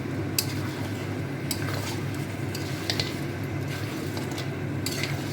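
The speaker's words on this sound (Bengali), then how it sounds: "মাংস কষানোর জন্য সেদ্ধ মাংসগুলো তেলের মধ্যে দিয়ে দিলাম" Boiled mutton stir-fried in oil in a pan for spicy mutton kosha, with a low steady sizzle and occasional sharp clinks of a metal spoon against the pot, close by and without talk.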